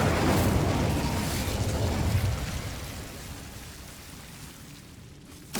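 Incendio fire spell cast in Hogwarts Legacy: a loud, rushing burst of flame that roars at full strength for about two seconds, then fades gradually into a quieter hiss, with a brief pop at the very end.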